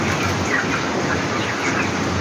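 Broiler roosters about four weeks old cluck together in a poultry farm fitted with fans and a water sprayer, a dense continuous flock chatter under steady fan noise, close and fairly loud.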